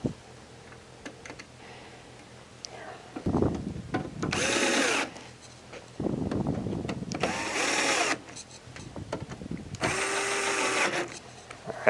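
A power drill drives screws into a Santa Fe Compact2 humidity control unit, three loud whirring bursts of a few seconds each with the motor pitch shifting as each screw seats, separated by quieter handling clatter and clicks.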